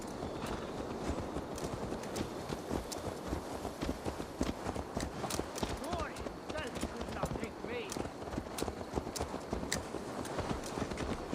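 Horse hooves clip-clop steadily in Assassin's Creed Valhalla, a dense run of close, rhythmic strikes continuing throughout over busy game ambience.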